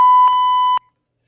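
A 6270 alarm system keypad emits a sustained electronic tone, broken by short, close beeps as keys are pressed during disarming, then stops into silence.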